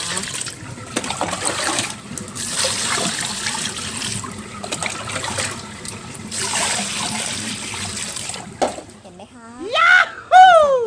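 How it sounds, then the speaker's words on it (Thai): Pickled bamboo shoots in a basket get rinsed in plain water, a steady close splashing and trickling wash lasting most of the stretch, followed by a short burst of voice at the end. "แล้วเราก็จะล้างน้ำเปล่านะคะ ประมาณสองสามรอบนะคะ"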